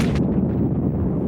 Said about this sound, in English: Konev loosed his opening barrage.